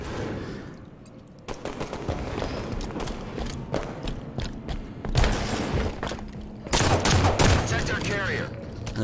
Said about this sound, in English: nice shots out of Gent, stopping Boss.